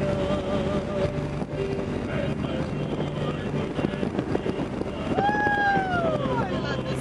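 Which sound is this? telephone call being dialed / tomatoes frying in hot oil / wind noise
wind noise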